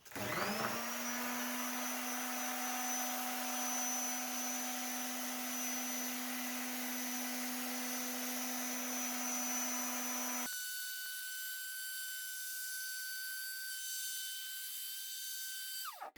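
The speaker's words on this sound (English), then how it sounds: "Now I'm going to demonstrate the sander in use." A Bauer 1715-B electric finishing sander fitted with dust collection runs steadily and loudly on its own with a constant high whine, then its pitch and tone shift abruptly partway through as the load changes, continuing without a break.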